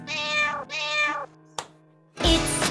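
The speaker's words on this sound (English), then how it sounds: "It's a cat, yes, yes, yes. It's a cat. Meow." A cat meows in a children's English lesson cartoon, two drawn-out meows followed by a short chirp and a louder, harsher third meow, close and clear with no talking.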